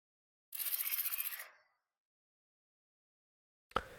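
A warped, shimmering burst of processed noise with a fluttering pulse lasts about a second, then silence, ending with a brief sharp click.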